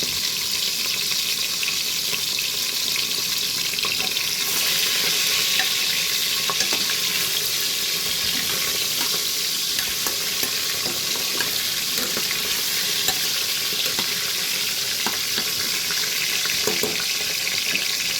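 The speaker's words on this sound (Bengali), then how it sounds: "প্রেসার কুকারেই কিন্তু আমি মুড়োটা ভেজে নিচ্ছি" A fish head frying in oil inside a pressure cooker gives a loud, steady sizzle and hiss, close and unbroken for the whole stretch, dotted with small pops and crackles; no voices are heard.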